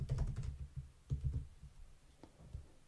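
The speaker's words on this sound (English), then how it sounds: "inside the form, we're just going to type toggle" Close computer keyboard typing while entering code in Xcode, with a quick flurry of muffled key clicks, a short pause, then a few more scattered taps.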